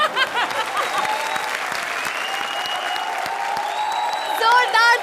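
A studio audience at a comedy show applauds the challengers in loud, sustained clapping while voices and music tones rise over it, swelling near the end.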